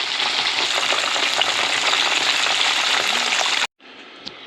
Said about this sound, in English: We're getting them to be golden, and to make sure they cook all the way through, and they'll be extra crispy.